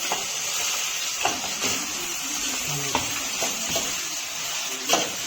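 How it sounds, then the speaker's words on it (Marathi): Chicken sizzles as it drops into hot spiced oil for tempering, a steady hiss and crackle with scattered stirring clinks and scrapes close at hand. "चिकन फोडणीला टाकते"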